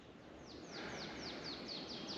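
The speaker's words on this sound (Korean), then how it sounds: "새소리" Birds singing outdoors, a series of about seven quick, high descending chirps repeating in a steady rhythm over a soft background of wind and ambient noise.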